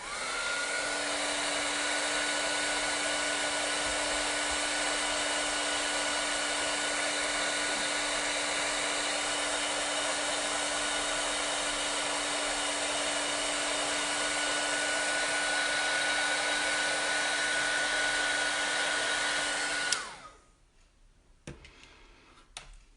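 A heat gun blows steadily while heat embossing a card, a loud constant whirring roar with a faint tonal whine that runs for about twenty seconds before cutting off abruptly, followed by quiet room sound.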